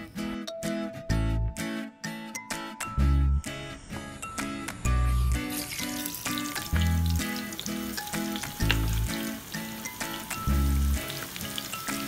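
Cubes of large potatoes fry in hot oil with a steady crackling sizzle, broken up by repeated low thuds and clatters of stirring or kitchen handling, alone without talk.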